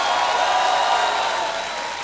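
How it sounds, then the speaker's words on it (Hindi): Studio audience applause on a televised quiz game show, a dense steady wash of clapping and cheering noise that holds loud and then eases slightly toward the end. "जोरदार ताली और शोर हो जाए इनके लिए।"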